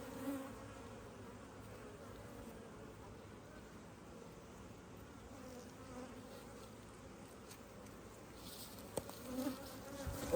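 Honey bees hum around an open hive while it is split to prevent swarming, with frames of brood being moved, forming a steady, low, continuous buzz that stays faint throughout, with a few clicks near the end.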